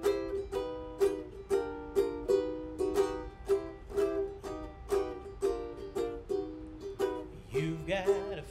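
A ukulele strums the accompaniment to a song in a steady, even rhythm of bright chords about twice a second, close and clear with no voices, ending in a brief flourish.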